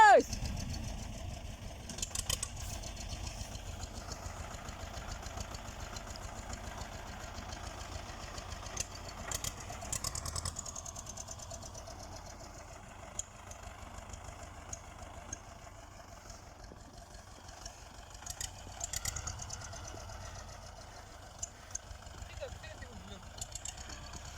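A T-25 tractor without doors idles on a farm while hauling manure, its engine a low steady chugging rumble that runs the whole time, moderately near, with occasional louder knocks and clatter.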